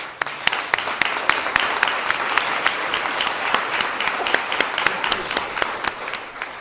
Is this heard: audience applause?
yes